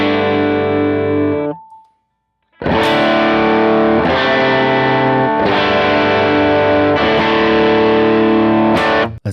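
Electric guitar played through the Timmy overdrive model on a Line 6 Helix, with sustained distorted chords ringing out, a short pause with a faint tone, then several loud strummed chords that each ring and decay.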